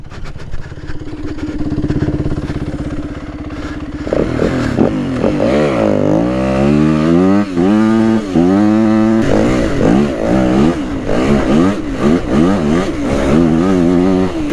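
A Yamaha WR250F dirt bike starting up, idling briefly, then revving hard and riding off into the woods, its engine rising and falling through repeated throttle surges, loud and close.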